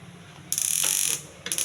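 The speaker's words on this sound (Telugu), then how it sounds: "స్టవ్ వెలిగించి పొయ్యి మీద పెట్టాలండి" A gas stove knob is turned to light the burner, producing a quick mechanical ratcheting click followed by a sharp hissing burst, then another short click and hiss, close and fairly loud.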